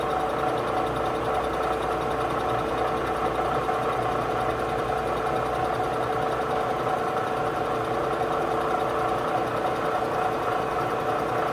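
A Bridgeport milling machine power-feeding its table back at a slow rate: a constant, loud, even mechanical whir and motor hum with steady vibration, unchanging for the whole stretch, no talking.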